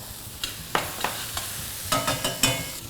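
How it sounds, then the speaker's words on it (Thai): Egg dish ingredients are sautéed over high heat, with a run of sharp scraping stirs and tosses against the pan above a faint sizzle, irregular at first and quicker toward the end. "ก็การผัดนะครับซอเต้ ซอเต้ด้วยไฟแรงนะครับ"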